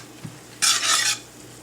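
A spoon scrapes and stirs cooked mushrooms and whole wheat flour in a pan, forming a gravy. One half-second burst of gritty scraping stands alone over a low kitchen hum.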